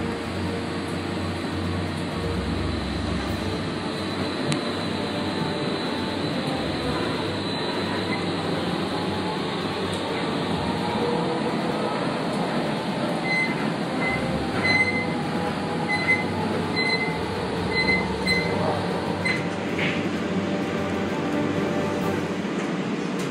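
A light rail train rumbles steadily along the rails approaching Central West End Station, with a constant low drone and faint high squeals, continuous throughout with no talking.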